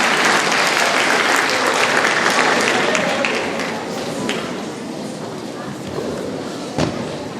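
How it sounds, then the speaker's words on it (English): Audience applause for a 6th grade choir at a middle school winter concert, loud clapping from a crowd that gradually thins and softens, with voices murmuring underneath and a sharp knock near the end. "Let's give them a round of applause."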